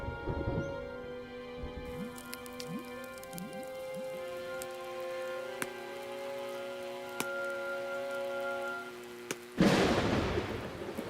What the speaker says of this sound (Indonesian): Oh, lihat awan-awan gelap itu. Badai akan datang.